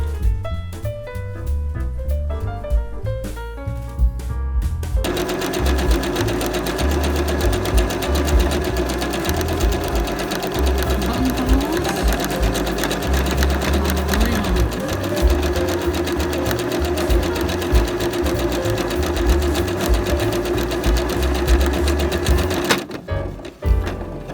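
Sewing machine working buttonholes and hemming a dress, a loud, close, sustained mechanical whir running almost without a break, with music briefly at the start and end.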